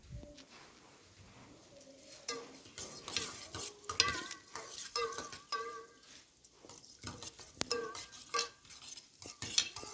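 A spoon stirring flax seed gel in a pot, giving repeated scraping and clinking strokes against the metal with a soft wet patter, close and moderately loud.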